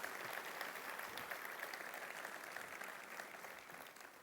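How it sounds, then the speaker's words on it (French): A hall audience applauds Vanessa and Marjorie in steady, even clapping. The applause is moderately distant and fairly quiet, with no break, and fades slightly at the close. "on peut les applaudir."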